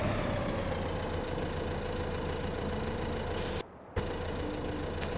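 A tractor engine idling in a farming video game, a steady low droning rumble held continuously and loud, broken only by a brief dropout near the end.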